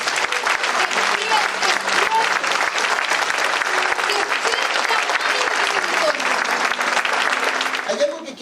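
A church congregation applauds loudly and continuously at a worship service, a dense wash of clapping with a voice speaking in Spanish over it before the applause fades at the end.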